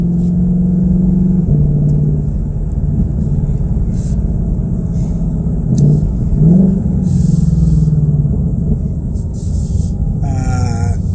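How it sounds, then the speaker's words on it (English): Car engine driving steadily with a low rumble and shifting tone as the vehicle turns around, engine pitch rising briefly mid-drive, continuous and close from inside the car. "I'm out for a drive here in an undisclosed location in an undisclosed state."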